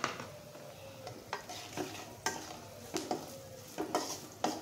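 Salt and turmeric sizzle softly in a pan while a utensil stirs and scrapes them in repeated short strokes, the light frying hiss running underneath.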